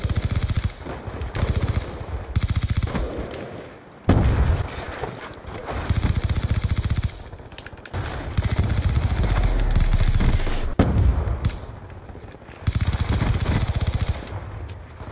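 Gunfire in a Black Ops 2 multiplayer free-for-all match, loud bursts of automatic and single shots repeating in clusters for the whole stretch, with short gaps between volleys.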